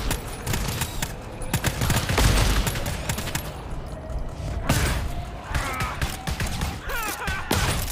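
Rapid bursts of gunfire in the shooter game GTFO, dense and loud cracks in quick succession, with faint voices in the background.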